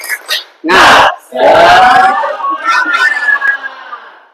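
A group in a classroom training session chants together in loud bursts, with rhythmic clapping and voices rising and falling in energetic unison.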